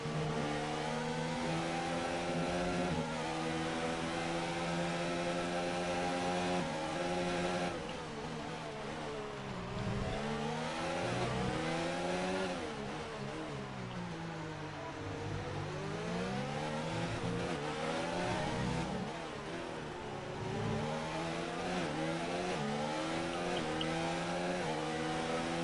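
Formula 1 cars racing in the F1 2019 video game, engines screaming continuously with rising and falling pitch sweeps as cars accelerate, shift and pass, loud and close throughout.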